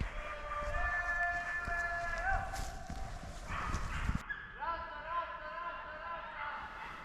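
Hunting dogs bay and bark in drawn-out, wavering tones while driving roe deer ahead in a hunt, heard at a moderate distance alongside people talking.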